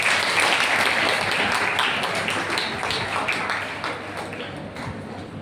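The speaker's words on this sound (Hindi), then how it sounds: "तालियां बजाते रहिए।" Applause from students at a coaching institute celebration in Prayagraj for selected NEET candidates, dense steady clapping from a crowd that slowly tapers off over several seconds.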